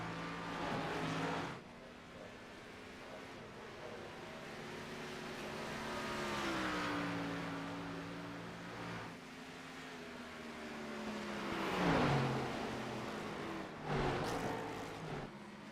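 Race car engines rev at Phoenix Raceway in a racing video game, their steady droning tones rising and falling as the cars accelerate and ease off, with brief louder passes and no voices.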